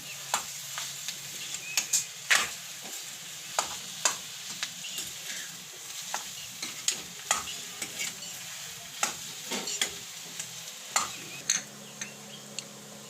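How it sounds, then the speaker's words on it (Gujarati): Stuffed capsicum curry (bharela capsicum shaak) is stirred in a pan, with a run of irregular scraping strokes over a soft, continuous sizzle, close and fairly quiet. "હવે આપણે બધું મિક્સ કરી લેવાનું છે આને."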